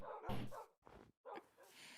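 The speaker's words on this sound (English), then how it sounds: "Wow, there's a lot of dogs" Dogs barking in a video game zoo, a few short sharp barks and yips in quick bursts separated by brief gaps, moderately quiet.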